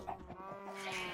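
A Minecraft sheep gives a short wavering bleat, brief and moderately loud, with no talking.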